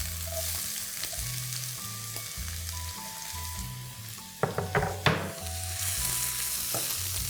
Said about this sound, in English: Once the oil heats up, I'm going to add in cumin seeds, immediately followed by chopped onions.